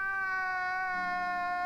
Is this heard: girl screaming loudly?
no